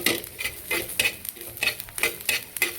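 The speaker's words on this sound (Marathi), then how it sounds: "मी थोडेसे जिरे टाकलेले आहेत ते पण छान भाजून घेते" Garlic and cumin seeds roast in a pan, with quick rhythmic scraping and tapping of a spatula against the metal over a light sizzle, close and busy throughout.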